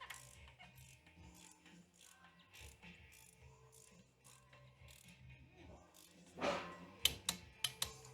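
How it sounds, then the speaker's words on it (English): Torque wrench tightening the DSG transmission filter housing on a Mercedes CLA 250: soft ratcheting clicks and small metallic handling noises, ending in a quick series of sharp, close clicks as it reaches torque. "So torque spec on this filter housing is 25 newtons. We're gonna torque it to spec just in case."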